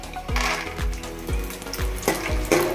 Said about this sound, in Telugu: పల్లీలు వేయించుకుందాం